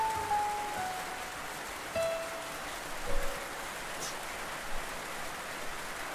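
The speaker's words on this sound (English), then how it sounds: "Trying to rain." Rain falls on a riverbank as a steady, soft hiss of drops, with a few louder patters and faint tonal background sounds, and no talking.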